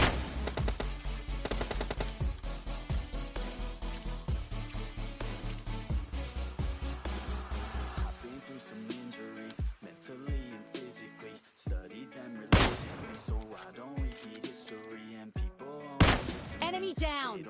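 Gunfire in the mobile battle-royale game PUBG Mobile Lite: dense automatic bursts give way to scattered loud single shots and short volleys, with game sounds throughout.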